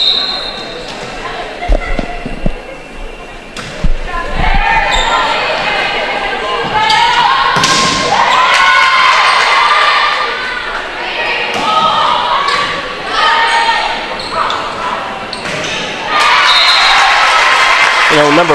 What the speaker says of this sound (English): As you can hear, the crowd's really getting into it.